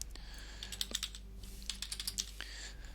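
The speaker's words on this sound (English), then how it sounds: "I'm just going to type it in here because that's a little easier" Typing on a computer keyboard during a Wargame Red Dragon session: quick, light key clicks in short bursts, close and fairly faint over a low steady hum.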